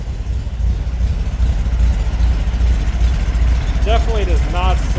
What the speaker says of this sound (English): Very throaty sound coming from those enormous pea shooters.